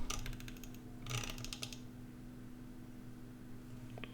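Soft rapid clicks come from a computer mouse and keyboard at a desk, in a couple of short bursts near the start, then quiet room hum.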